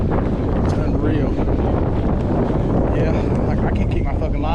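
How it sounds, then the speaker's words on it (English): Strong wind buffets the microphone in a constant roaring rush during winter trout fishing, filling the whole stretch at a steady level. "it's so fucking windy right now"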